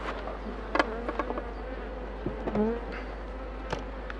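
Honeybees buzz around a hive during a bee escape, several close individual buzzes rising and fading over a steady low hum outdoors.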